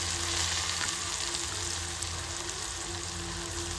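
Curry leaves, ginger and onions frying in a pan, a steady dense sizzle with faint crackles and occasional stirring, close and fairly loud throughout with no talking.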